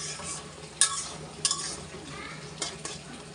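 Fish and Malabar spinach sizzle in a pan as a spatula stirs them, with a few sharp clinks of metal against the pan over a steady frying hiss.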